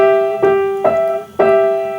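A major sixth rings out on a piano, two notes struck together and repeated three times. Each clear chord sustains and fades before the next strike, with no talking.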